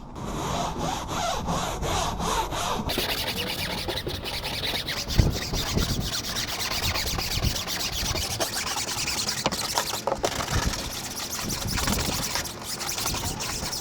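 A boat hull is scrubbed to lift rust spots and stains, a continuous rough rasping rub with rhythmic back-and-forth strokes, close and fairly loud throughout with no talking.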